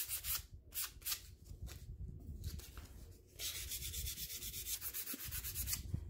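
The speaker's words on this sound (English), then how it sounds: "Just gonna go ahead and just start to sand down some areas." Sandpaper rubs by hand across a wooden board in a distressing job, giving close, quiet, rhythmic rasping strokes with a brief pause midway, then a run of quick, even back-and-forth passes.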